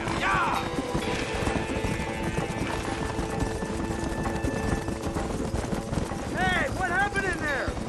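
Horses gallop in the Red Dead Redemption video game, with rapid clip-clop hoofbeats, snorts and whinnies among an active mix of game sounds and music, and voices can be heard talking throughout.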